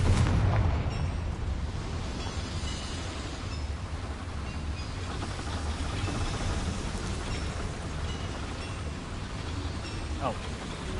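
A Confringo spell explodes in the video game Hogwarts Legacy, with a heavy, low rumbling blast at the start that turns into a loud, sustained, crackling roar lasting the whole stretch.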